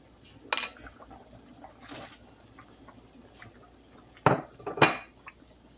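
Mung bean soup being stirred in a cooking pot, giving a few scattered scraping clinks of a utensil against the pot over a quiet background, with no talking.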